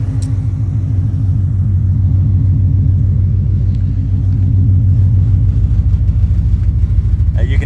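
A 1965 Ford Mustang restomod with a swapped-in Coyote engine idles loudly and steadily, a deep pulsing rumble from close by that runs without a break.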